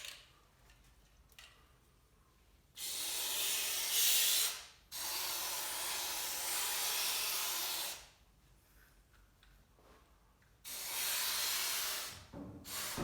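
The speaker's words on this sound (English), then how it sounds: "Spray a liberal amount of grease in the tension springs at the top." Aerosol grease sprayed onto the tension springs at the top of a squeaky garage door: three sustained hissing bursts, each lasting about two to three seconds, with quiet pauses between them, close and fairly loud.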